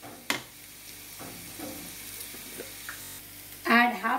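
Chicken and spices with roasted coriander powder frying in a pan, giving a soft, low sizzle with scattered utensil knocks and a louder burst of activity near the end.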